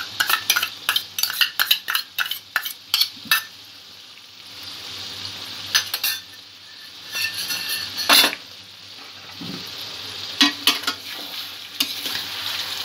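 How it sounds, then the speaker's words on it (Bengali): A spoon stirs chicken kalia with cashew paste in a pan, with repeated scraping clinks and bursts of sizzling frying, loud and close, with no talk. "সব কিছু ভালো করে মিক্স করে নেব"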